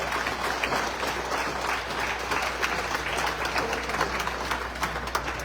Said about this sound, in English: Let us give the President a round of applause.